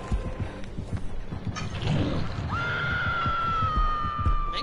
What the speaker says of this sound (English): Meg's scream is painful.